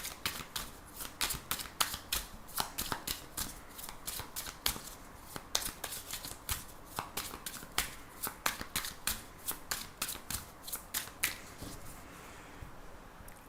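Tarot and oracle cards being shuffled by hand, a close, brisk run of crisp riffling snaps in a steady rhythm that continues throughout.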